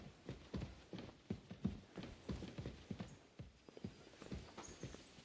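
Horse hooves clip-clop in the video game Kingdom Come: Deliverance II, a quiet, steady walking rhythm of hoofbeats with no other sounds around it.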